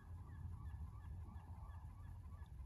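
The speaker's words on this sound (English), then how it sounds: "That is a seagull." A seagull calls at a beach, honking repeatedly and faintly over a low steady background rumble.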